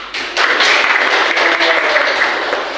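A classroom group of teachers in training gives a short burst of clapping that starts abruptly and stays steady, fairly close and loud, with no talk over it.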